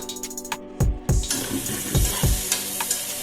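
Onions and tomatoes fry in a pan for jackfruit biryani, a soft sizzle broken by several sharp stirring clatters and scrapes of a utensil, close and fairly quiet.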